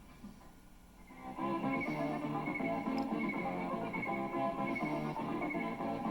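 A white Andalusian stallion, the Spanish dancing horse, lets out a long loud whinny that rises after a brief quieter start and holds for several seconds.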